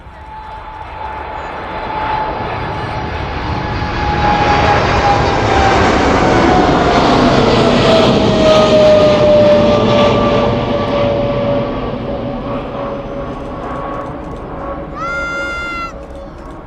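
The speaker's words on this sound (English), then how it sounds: "here it comes, making its way towards us then, off to Oslo this afternoon, the Ethiopian 777" An Ethiopian Boeing 777 takes off from runway 27 at East Midlands Airport, a jet roar that swells over several seconds, peaks loud, then fades as it climbs away, with a brief cat-like meow near the end.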